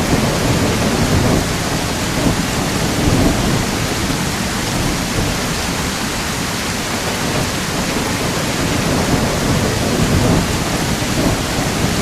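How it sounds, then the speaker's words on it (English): Heavy rain and rumbling thunder inside the survival game The Isle Evrima, a loud, dense, unbroken downpour with low rolling thunder beneath it and no voices. "I mean, this rain is pretty loud right now,"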